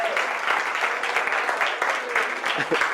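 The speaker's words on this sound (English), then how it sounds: "can we give Avery a round of applause?" Applause from a New Thought church community for Avery, a sustained spread of many hands clapping at a fairly loud, even level, with faint voices mixed in beneath the clapping.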